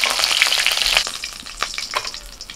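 Pieces of hilsa fish sizzle steadily in hot oil in a pan, loud and close, with the crackle occasionally stirred and no voices.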